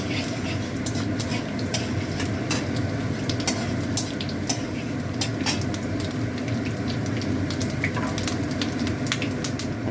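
Bay leaf, cumin and whole spices frying in hot white oil: a continuous close sizzle with dense crackle and scattered sharp pops throughout, steady and fairly loud.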